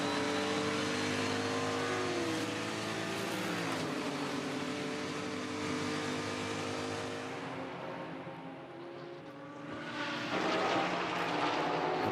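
GT race cars roaring up the hill at the Bathurst 12 Hour, dense overlapping engine noise with rising and falling pitch as cars pass, loud and continuous, with one car swelling close near the end.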